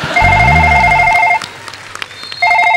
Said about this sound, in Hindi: बाहर फोन आ रहा है सिक्योरिटी वालों का।